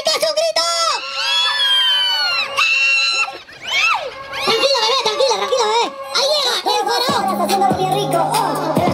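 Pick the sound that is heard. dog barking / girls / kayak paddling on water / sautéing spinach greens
girls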